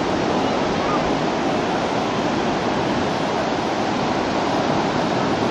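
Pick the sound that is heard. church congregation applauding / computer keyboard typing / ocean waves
ocean waves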